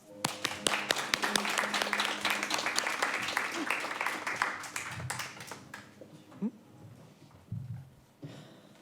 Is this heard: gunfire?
no